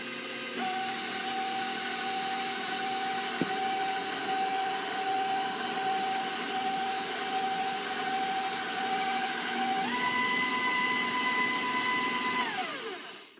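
An electric mixer churns sugar cookie dough with a steady, loud motor whine that runs unbroken for about twelve seconds. The pitch steps up near the end before the motor winds down and stops.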